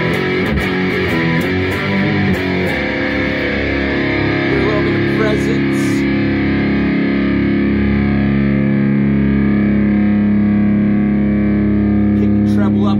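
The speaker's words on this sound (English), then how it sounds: "we're going to go back to the Herbert. Got that regular low gain setting." Electric guitar through a Diezel Herbert preamp on its low gain setting plays a loud, distorted riff with chugging notes, then rings out as sustained, layered chords.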